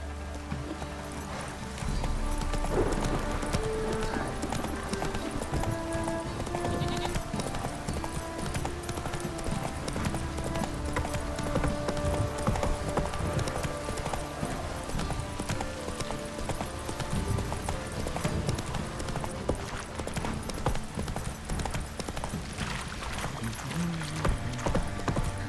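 A horse in The Witcher 3 video game gallops with steady, close, loud clip-clop hoofbeats that run continuously for the whole stretch, with a brief whinny partway through and only faint background voices.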